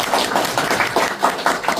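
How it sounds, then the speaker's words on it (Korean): A short burst of audience applause at a construction AI seminar, a small crowd clapping in an uneven, fairly close patter for about two seconds. "박수."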